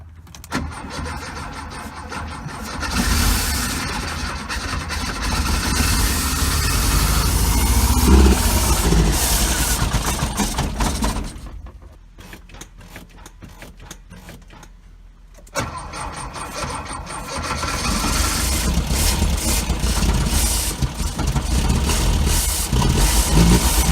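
A 1973 Volkswagen 412 engine, run for the first time in 33 years without a fuel pump, cranks and catches, runs loudly and roughly, cuts out and goes quiet for a few seconds, then fires up again.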